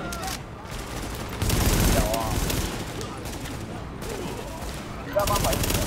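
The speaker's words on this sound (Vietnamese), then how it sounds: "mình thấy cái súng này nó bắn còn không hay bằng cái cây súng lụt mình cầm theo nữa chứ" Rapid bursts of gunfire from Tom Clancy's The Division on PS4 during a fight in a shopping mall, loud and sustained with heavier volleys, while a voice talks over the shooting.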